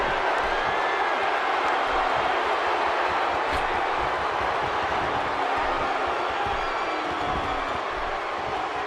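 A big WWE 2K16 arena crowd in St. Louis keeps up a steady, loud roar of cheering and noise throughout, broad and constant with no clear breaks.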